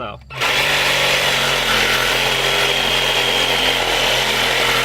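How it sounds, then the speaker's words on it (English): Power saw cutting through emergency brake cables on a car's rear axle at a salvage yard, starting abruptly and then whining loud and steady at close range. "So just cut them in two with the saw."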